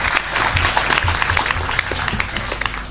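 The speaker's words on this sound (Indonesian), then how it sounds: "Tepuk tangan untuk kedua pemantik diskusi kita." Audience at a discussion forum breaks into dense, steady applause that holds loud and close for about three seconds, a sustained wash of many hands with no voices over it.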